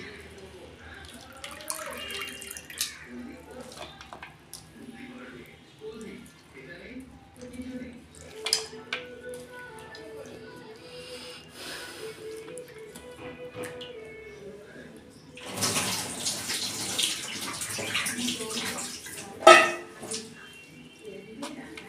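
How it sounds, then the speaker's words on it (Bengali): Chopped banana stem is rinsed under running water in a kitchen, with soft splashing and dripping under steady talk and a louder gush of water near the end. "আমি এই যে থোড়টাকে কেটে এই যে ভালো করে ধুয়ে নিচ্ছি"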